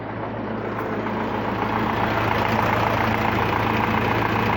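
A YUMZ tractor engine fitted with a new centrifuge oil filter runs warm at a steady idle, giving a loud, constant low rumble and clatter close by, with no talk.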